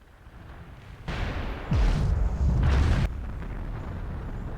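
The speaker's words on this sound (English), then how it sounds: "Cruise missile." A cruise missile strike in the World in Conflict strategy game: a sudden heavy blast followed by a deep, rolling rumble with a descending whoosh, holding loud for about two seconds before fading into a low roar.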